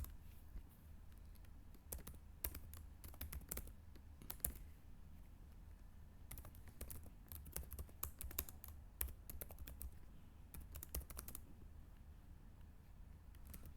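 Typing code on a computer keyboard, with bursts of quick, soft key clicks separated by short pauses, close and quiet against a faint background hum, with no talking.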